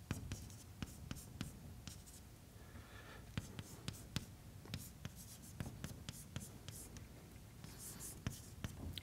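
Chalk or pen taps and scratches out an integral by hand during a lecture on KPZ mathematics, a steady run of quiet strokes and sharp ticks in a hushed room.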